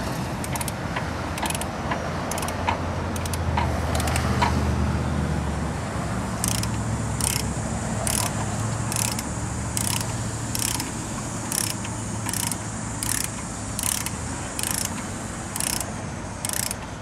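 A McGard propeller lock being threaded down and tightened with its key on a boat propeller: repeated clicking, ratcheting taps at a steady rhythm, close and fairly clear over a low background hum.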